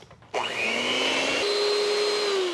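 An electric mixer beats vanilla buttercream for a birthday cake: the motor starts abruptly, then whirs steadily and loudly at close range, and its whining pitch shifts once partway through.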